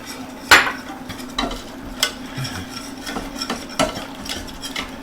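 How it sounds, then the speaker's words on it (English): Milk and cream whisked together in a pan, with a sharp metallic clink near the start followed by softer irregular scraping and tapping strokes, moderately close, with no talking. "And we whisk this and whisk it"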